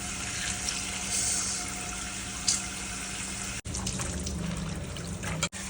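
Water pours and trickles steadily for washing red amaranth greens, a continuous close splashing flow with a brief splash near the middle and two short breaks toward the end.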